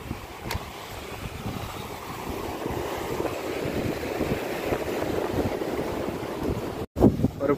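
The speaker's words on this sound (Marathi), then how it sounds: "बाप रे, कुठपर्यंत लाट येते बघा, केवढी लाट येते." Rough, wind-whipped sea surf rolls onto the shore at Varavade near Ratnagiri during fishing, a steady loud roar of waves with heavy wind buffeting the microphone.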